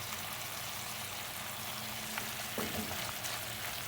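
Zucchini and squash cook on low heat in a pan, giving a faint, even sizzle with a couple of soft stirring clicks toward the end.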